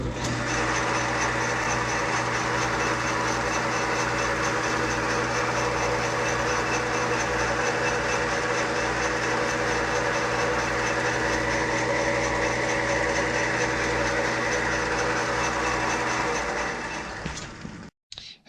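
A metal lathe turns an adapter used to ream the main bush of a 1959 Triumph T20 Tiger Cub motorcycle. Its steady motor hum and whine run continuously and up close for about seventeen seconds, then wind down and stop.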